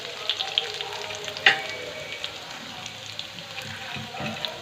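Green chillies frying with garlic in hot mustard oil, a steady close sizzle with scattered pops and one sharper crackle, along with faint stirring.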